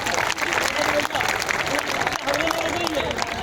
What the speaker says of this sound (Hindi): आपको ताली बजानी है तो दोबारा से एक बार इनके लिए बजाइए।